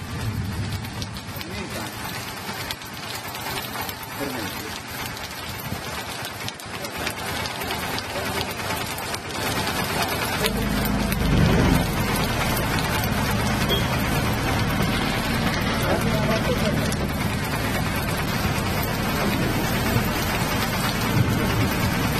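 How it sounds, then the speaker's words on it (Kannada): Heavy summer rain pouring down in Chikkamagaluru, a loud, dense, steady hiss of rainfall that swells even heavier partway through and keeps drumming without a break. "ಮಳೆ ಸುರಿತಾನೇ ಇದೆ."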